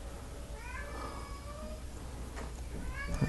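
A cat meows repeatedly from a short distance, its drawn-out, rising calls sounding over a steady background hum, with a couple of louder meows near the end.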